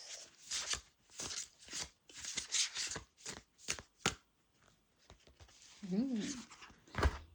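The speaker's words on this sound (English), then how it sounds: "you might just hear a lot of shuffle noises" Tarot cards are shuffled close by in repeated papery bursts with short pauses between them during a reading, and a brief voice sounds near the end.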